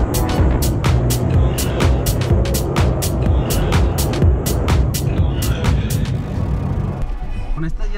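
Ford Bronco Wildtrak driving over sand dunes on big tyres, a steady loud rumble of engine and wind with repeated sharp rattling bursts, easing off near the end.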